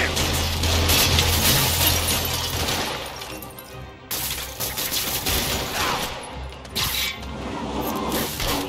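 Gunfire from thugs in the Marvel's Spider-Man Remastered video game, a dense crackling burst with shattering impacts that fades midway, then picks up again in sharp bursts, loud and close.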